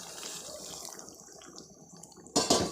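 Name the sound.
hot water poured into chicken curry pot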